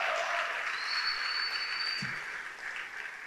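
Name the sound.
applause from church congregation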